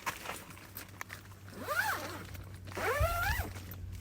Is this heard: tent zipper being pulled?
yes